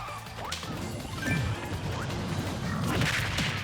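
A heavy smash attack lands in a Super Smash Bros online tournament match, Villager against King K. Rool, with a loud crashing impact among busy clattering game effects and repeated hit sounds.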